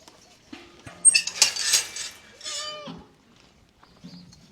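A Nagauri goat on a goat farm gives a couple of loud, close, wavering bleats, with quieter farm noise before and after.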